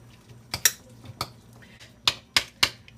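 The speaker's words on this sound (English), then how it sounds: "We're going to give this a good mix." A spoon clinks and taps against a bowl while chicken stuffing filling with lemon juice is mixed, several sharp bright knocks spaced irregularly over a quiet background hum.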